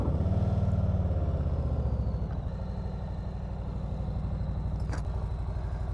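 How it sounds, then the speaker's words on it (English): A 2021 Harley-Davidson Softail Slim with a Milwaukee 8 V-twin starts and settles into a steady, loping idle, a deep pulsing rumble that stays fairly quiet and even throughout, with no talking. "Let's see what the startup sounds like."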